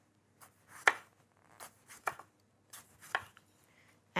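A knife cuts through a tomato in a few separate slicing strokes, crisp and close, with quiet gaps between cuts.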